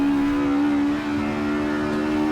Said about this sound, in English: Say hello to the Brabham BT8.